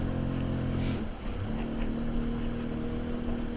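A jet ski engine at full throttle drones steadily with a humming tone, dipping briefly before climbing back to a sustained roar over rushing water.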